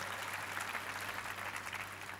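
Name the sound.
audience applause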